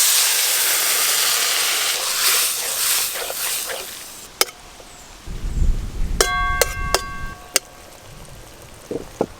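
Water poured into a hot pan of fried gourd greens, potato and eggplant with turmeric sets off a loud steaming hiss that fades, followed by low bubbling and a few sharp utensil clinks near the end.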